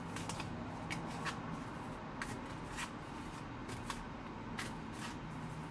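A deck of tarot cards is shuffled by hand, soft repeated riffling bursts over a quiet, constant room hiss, faint and close with no talking.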